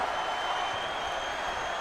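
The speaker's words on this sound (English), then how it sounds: "The crowd chanting, holy crap." A wrestling arena crowd in WWE 2K22 roars and chants steadily, a dense continuous wall of cheering and applause held at an even loud level throughout.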